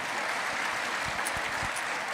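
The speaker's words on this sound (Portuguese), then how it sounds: "dê um aplauso ao Senhor" Applause from a church congregation during a Sunday service at a Christian community church in Curitiba, a steady broadband patter of clapping with a few low thumps, moderately loud and filling the room without voices.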